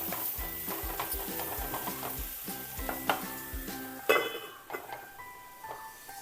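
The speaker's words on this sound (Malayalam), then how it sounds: "നന്നായിട്ട് ഒന്ന് ഇളക്കി ഒന്ന് വാടാനായിട്ടൊന്ന് മൂടി വയ്ക്കാം" Ponnaamkanni spinach is stirred in a hot frying pan, a spatula scraping and tapping in a steady rhythm over continuous sizzling, with a sharper clank toward the end.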